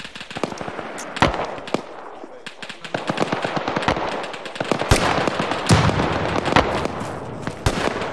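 Rapid machine gun bursts crack out in the Arma 3 military shooter, with dense, irregular volleys and scattered single gunshots close and loud over a busy battlefield backdrop.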